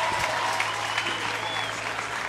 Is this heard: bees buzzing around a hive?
no